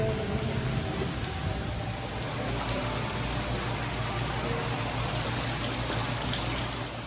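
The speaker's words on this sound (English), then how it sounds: "It's actually raining more in the store than it is outside" Rain at Dollywood theme park heard from inside a store, a continuous dense hiss of falling water with a steady low hum underneath, loud and unbroken throughout.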